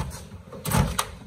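A drawer on a Husky 61-inch tool box slides open with a short rolling scrape, ending in a sharp metallic clack, close and fairly loud.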